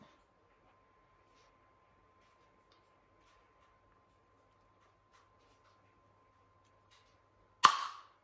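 A single sharp crunching punch near the end after several seconds of near silence and faint hum, like a hole punch pressed hard through paper.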